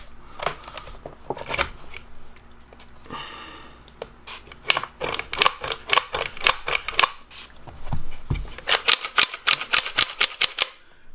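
Sharp metallic clicks and clacks from handling a Tec 9 pistol while its bolt is eased back, a busy series of close, crisp mechanical snaps with brief pauses and a short rattling slide.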